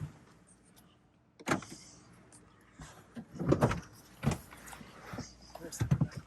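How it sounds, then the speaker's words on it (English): Several quick mechanical clunks and a brief whirr from the door locks of a 2016 Toyota Prius engaging, with faint voices and rustling nearby. "gotta lock the doors, though."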